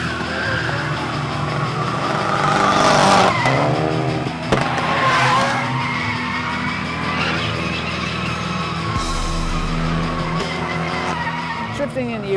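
A Mitsubishi Lancer Evolution 7 rally car revs hard and drifts, its tires squealing in long wavering screeches beneath a roaring engine, loud and near, with a voice speaking over part of it.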